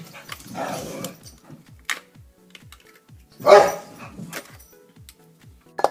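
Dogs at play bark in a few separate close outbursts, one early and a louder one midway, with low growly sounds between and a steady faint clicking underneath.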